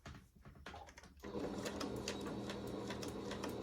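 A sewing machine stitches a half-inch seam allowance in a steady, continuous run, its rapid needle rhythm loud and close after a brief start.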